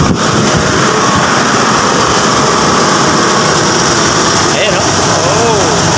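A Mitsubishi Adventure gasoline engine runs steadily at close range, a loud continuous idle with a buzzy high-pitched edge throughout; someone talks over it.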